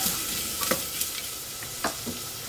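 Shallots and garlic softening in a pan for butternut squash soup, a low continuous sizzle with a few brief stirring scrapes, close and alone.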